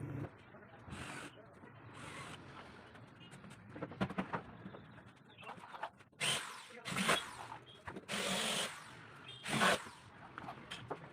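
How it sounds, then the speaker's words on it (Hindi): A power drill drives screws into a particle board shoe almirah shelf: short whirring and ratcheting bursts at moderate distance, spread between stretches of someone talking. "एक एक स्क्रू हम बाहर से इसमें लगाएंगे और इसको फंसा के लगा देंगे"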